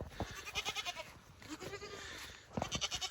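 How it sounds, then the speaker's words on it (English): Goats in a farm pen bleat several times in short, wavering calls, close by and fairly loud, with a quieter pause between bursts. "we've got some happy goats"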